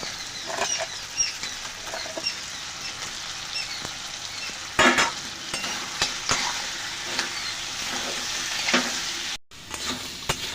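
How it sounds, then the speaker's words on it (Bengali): Sea crabs coated in salt and turmeric fry in spice masala with a constant crackling sizzle, stirred by frequent scrapes and clinks of the spoon on the pan, close up. "এবার আগে থেকে নুন হলুদ মাখানো কাঁকড়াগুলো এর মধ্যে আমি দিয়ে দিচ্ছি"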